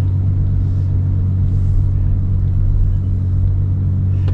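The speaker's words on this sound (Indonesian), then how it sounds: "Karena ini dari suara mesinnya aja tuh udah kayak meminta untuk digeber gitu loh" Ferrari FF engine idling with a deep, steady rumble, close and loud, a constant low drone without talk.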